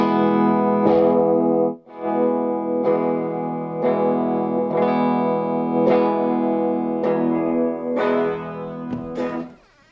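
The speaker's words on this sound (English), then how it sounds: "So if I want to change the sound of this guitar, I'm much better off going in and changing the tones on the amp." Electric guitar played through an amp with distortion and effects, sustained ringing chords changing every second or so with brief breaks, loud and close with no talk.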